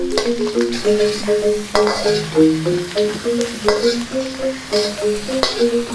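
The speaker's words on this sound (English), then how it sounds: "I don't like too raw bitter beans, so by cooking it with the oil first" Bitter beans (petai) frying in oil in a pan while being stirred, for a sweet spicy prawn sambal; a steady sizzle runs throughout with repeated stirring scrapes and light clinks, close and fairly loud.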